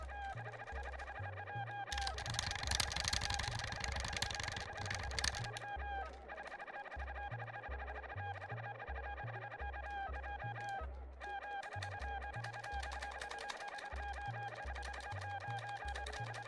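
Chicken clucks and squawks from the Secret of Evermore video game come in repeated bursts, including a louder noisy flurry early on, over a continuous low, rhythmic game music bed.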